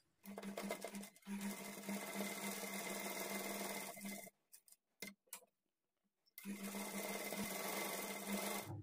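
A sewing machine stitches a pinned blouse lining to the main fabric in two long, steady runs, separated by a quiet pause with a few brief clicks.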